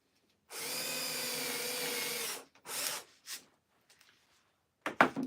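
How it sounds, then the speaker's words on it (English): A power drill boring a hole in wood, one loud close whirring burst of about two seconds, then a short second spin and scattered handling clicks, with no voices. "Drill your second hole."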